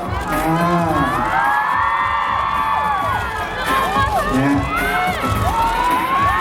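A loud crowd of high-pitched fan voices screaming and cheering at a JAY B event, rising and falling in excited waves throughout.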